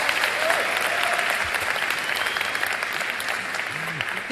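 Warm audience applause fills a Nigerian hall during a live speech event featuring Facebook's CEO, a steady dense clapping that holds throughout with faint crowd murmur beneath.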